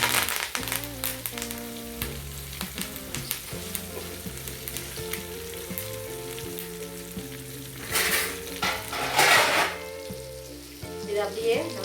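A whole fish frying in hot oil with curry leaves gives a steady crackling sizzle under background music, with louder bursts of spattering near the end.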